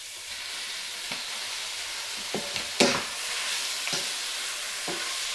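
Squid and garlic sauté in a pan for adobong pusit, a steady close sizzle broken by a few sharp scraping stirs and spattering pops, with no one speaking.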